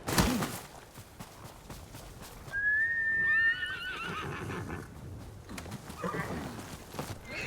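A horse in the game Ghost of Tsushima lets out a high, wavering whinny midway, with clip-clop hoofbeats and ambient game sound around it at moderate volume.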